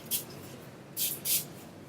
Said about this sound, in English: I take a leave-in conditioner and kind of spray it.